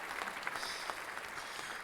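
A recorded clap sound effect fires from a soundboard button, a quiet burst of canned applause with a few sharper hand-clap accents, heard faintly and on its own.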